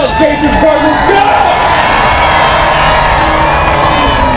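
A big crowd at a Renegade Monster Trucks show in Gaithersburg, Maryland cheering, whooping and shouting in a continuous loud roar, with voices rising above the din.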